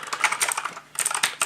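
A HAVIT wired backlit mechanical gaming keyboard with a cast iron base is typed on in quick, close, crisp clicking keystrokes, with a brief pause midway and no speech.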